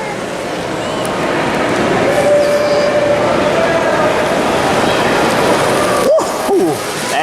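A model Amtrak Dash 8 locomotive in Pepsi can livery pulls six Superliner cars at a large model train show. It makes a loud, steady rolling rumble with a thin squeal partway through and voices around it.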